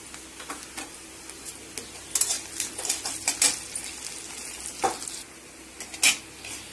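Cumin seeds frying in hot oil for flattened rice pulihora with urad dal and peanuts, giving a steady soft sizzle broken by sharp crackles and pops and a few utensil clicks, close by with no talking.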